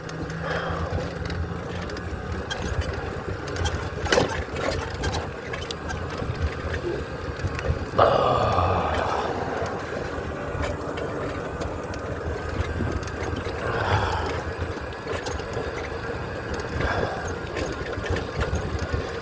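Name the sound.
solar-powered tricycle being ridden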